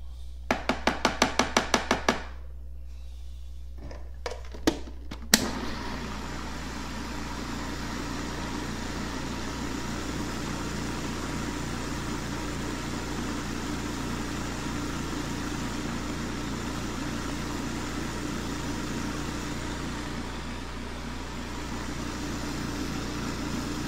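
A kitchen machine mixes cheese dip: a run of sharp clicks and knocks gives way to a steady, even motor hum that keeps going alone for about twenty seconds.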